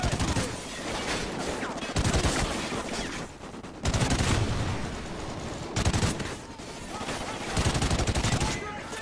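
Rapid bursts of automatic gunfire from the video game Call of Duty: Ghosts come in loud repeated volleys every couple of seconds, dense and close, with brief quieter gaps between them.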